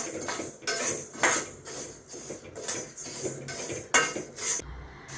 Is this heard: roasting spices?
yes